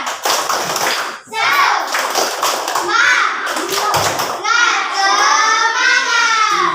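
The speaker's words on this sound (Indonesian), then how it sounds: "1, 2, 3, tepuk semangat." Children in a classroom chant and clap a rhythmic 'tepuk semangat' clapping routine, their voices loud and close, with hand claps and thumps beating in time throughout.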